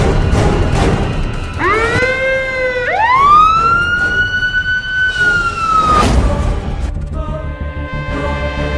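A fire brigade truck's siren wails loudly and close, its tone sweeping upward and holding high before cutting off, with steady traffic-like rumble underneath and no talking.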